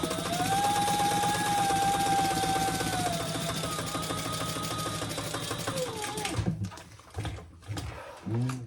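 A sewing machine bastes bag fabric flat, running in a loud, steady, close mechanical whir for most of the stretch before stopping, followed by a few faint handling thumps.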